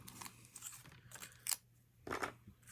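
Scissors snipping through paper while cutting out a small paper tree shape, several quiet close crisp snips spaced irregularly with short pauses between cuts.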